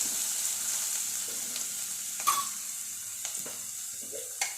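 Onions fry in a pan with dried red chillies, giving a steady close sizzle with occasional sharp crackles and light stirring clicks, no voices.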